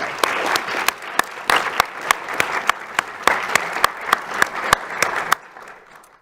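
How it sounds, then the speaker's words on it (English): Audience clapping at a school board meeting, a moderate room of people applauding with distinct sharp claps standing out, steady for about five seconds before stopping abruptly. "Let's just give them a round of applause anyway."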